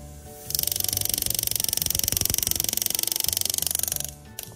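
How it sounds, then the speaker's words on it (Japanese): A rapid, steady mechanical buzzing from an engraving tool cutting a border around enamel letters on a metal bracelet, starting abruptly, running evenly for about three and a half seconds, then stopping, heard up close. "ブレスレットに、入っているエナメル文字の周りに縁取りを彫っていきたいと思います"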